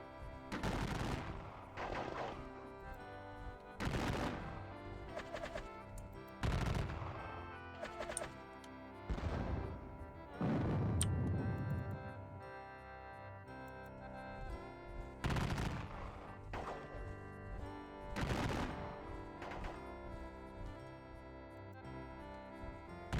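Musket volleys in a Gettysburg Civil War strategy game, a series of sharp cracking shots in separate bursts, some single and some clustered, spaced irregularly and fairly faint.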